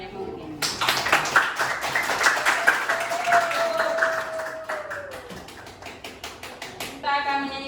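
A class group clapping hands together at the close of a school lesson, a rapid, busy patter of claps with voices and a brief tone beneath, ending in a short burst of speech.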